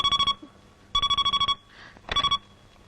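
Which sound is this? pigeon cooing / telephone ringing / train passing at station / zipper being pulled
telephone ringing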